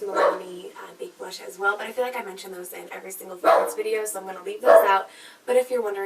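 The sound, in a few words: dogs barking in the background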